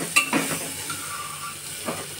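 Moong dal and rice being stirred and fried in a pan with masala and salt, a soft sizzle under a few spoon scrapes against the pan, fairly close and moderate.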